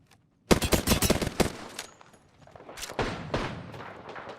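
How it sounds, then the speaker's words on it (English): Bursts of rapid automatic gunfire from an Apex Legends match crack loudly in quick succession, followed by a second, slightly quieter volley after a short pause. "Shots fired."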